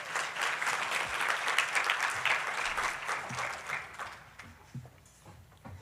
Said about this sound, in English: please give a round of applause for Commissioner Adrian Garcia